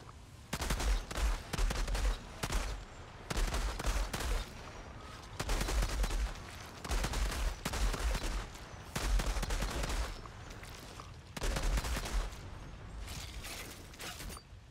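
Dual-wielded sidearm pistols fire in the video game Outriders in repeated rapid bursts of loud shots, separated by brief pauses, with no speech.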